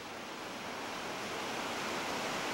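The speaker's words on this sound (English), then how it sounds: "we love the sound of the brook, the water going over the stones and" A brook in Yosemite fed by Yosemite Falls rushes over stones and rocks in rapids, a steady, full, close wash of flowing water with no breaks and no voices.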